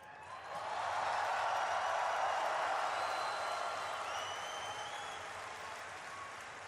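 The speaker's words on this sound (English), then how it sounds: "I want everyone here to give a big cheer to all of your friends watching at home" A BlizzCon audience of about 20,000 cheers and applauds, a broad roar that swells quickly, holds loud and full, then slowly tapers while a few whistles ring out over the crowd.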